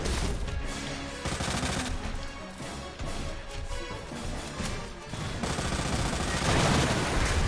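Rapid bursts of gunfire aimed at a monster in Resident Evil 2, with Leon on Hardcore mode; loud, dense volleys repeat across the whole stretch with crashing impacts and no speech.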